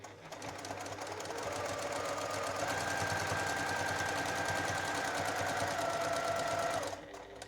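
Steady, close whir of a sewing machine stitching fabric with elastic for a jacket, running continuously at an even speed for several seconds before stopping abruptly near the end.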